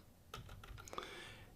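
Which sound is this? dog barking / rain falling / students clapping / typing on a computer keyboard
typing on a computer keyboard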